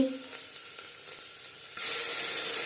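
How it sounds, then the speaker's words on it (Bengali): Chopped onion and crushed garlic go into hot oil for a mutton paya soup, and a quieter pan sound jumps abruptly into a loud, steady, close sizzle partway through. "দিয়ে দিলাম পেঁয়াজ কুচি রসুন যেটা আমি থেতো করে নিয়েছি"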